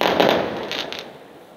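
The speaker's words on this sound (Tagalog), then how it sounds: "May fireworks sila." A loud burst of New Year's fireworks crackling and popping from a neighbouring building, heard from a roof deck, sizzling bright bursts that fade out over a second or so.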